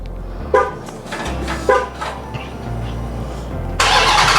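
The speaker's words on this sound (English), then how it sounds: "The first cold start, probably the first cold start ever with this in my ownership on a 2023 Dodge Demon 170." A 2023 Dodge Demon 170 cold-starts with a starter crank and catch, then settles into a deep, lumpy idle with a couple of throttle blips and a louder surge at the end, up close.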